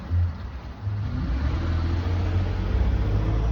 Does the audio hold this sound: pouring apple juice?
no